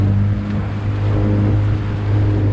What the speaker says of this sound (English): The motor started right up, no problem.